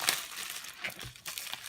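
Plastic bag crinkling as a space gray iPhone 6s Plus is unbagged, a close, brief burst of rustling and crackling that fades and returns in short bursts.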